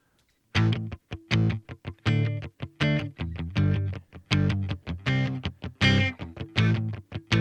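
A musical phrase played through Fabfilter Saturn's crunchy amp distortion setting, with short gritty saturated notes that stop and start in a choppy rhythm, heard alone and fairly loud.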